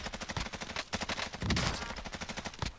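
Rapid automatic gunfire in a shooter game rattles off in fast, evenly spaced bursts, close and continuous, with a heavier blast near the middle.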